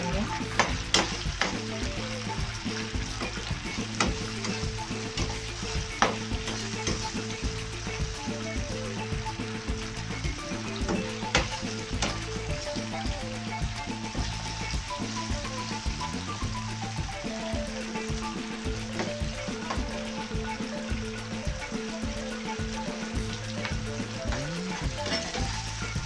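Onion fries in a pan for chicken with pineapple juice, a constant dense sizzle with occasional stirring scrapes, loud and close over a faint background hum, with no voices.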